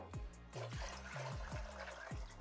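White vinegar pours into a pan of pickle brine for beets, a continuous close splashing flow of liquid with a bubbling, gurgling rhythm.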